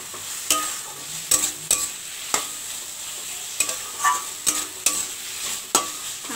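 Fried potatoes are stirred into a sizzling fish egg curry in a pan, with repeated sharp scrapes and clinks of the spoon over a quiet steady frying hiss; no voices.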